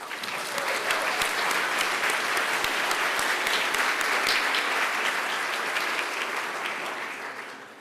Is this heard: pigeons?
no